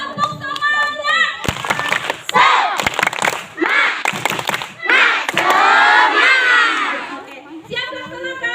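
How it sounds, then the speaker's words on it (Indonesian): Schoolchildren at an elementary school in Cirebon, Indonesia, doing a rhythmic spirit clap in unison: bursts of patterned clapping mixed with loud group chanting and shouts, led by an adult voice. "Oke, tepuk semangat dulu ya, tepuk semangat."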